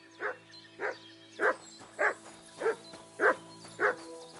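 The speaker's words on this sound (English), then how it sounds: "Good dog, Mutz" A dog in the video game Kingdom Come: Deliverance II barks in a steady rhythm, seven single woofs about half a second apart, clear and fairly close, with a faint steady hum underneath.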